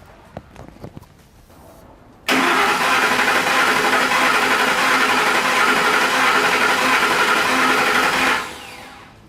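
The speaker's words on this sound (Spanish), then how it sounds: "Momentáneamente quité el fusible de las bobinas para que no se prenda la camioneta y voy a dar" A Ford F150 pickup's engine cranks over on the starter without firing, its coil fuse pulled for a compression test, a loud, even churning that begins abruptly, holds for about six seconds, then cuts off.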